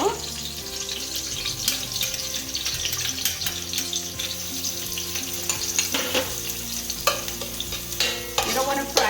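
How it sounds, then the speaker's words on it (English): Peppers and garlic fry in a pan for mango anchar, a loud close sizzle with stirring scrapes and splatter running throughout, with a hint of background tones. "I let my peppers fry for maybe about a minute."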